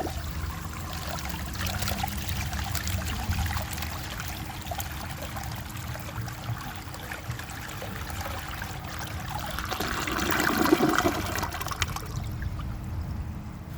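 An American Standard Homestead VorMax toilet flushing dirt with only one flapper lifted, water pouring and trickling steadily near the bowl, then surging louder toward the end before fading.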